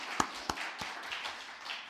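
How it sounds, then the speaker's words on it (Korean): A church congregation at a Wednesday worship service claps in welcome for lay missionaries, a few sharp separate claps at first and then a soft, scattered, fairly faint patter. "우리 다시 한번 뜨거운 박수로 환영하고 또 응원하겠습니다"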